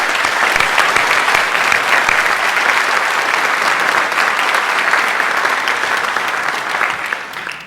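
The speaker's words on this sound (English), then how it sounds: "so if we can give her a round of applause." A school scholarship awards night audience gives a sustained round of applause, a loud, dense wash of many hands clapping that holds steady and then tapers off at the end.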